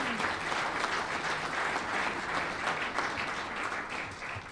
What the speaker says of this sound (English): I think we owe you a big round of applause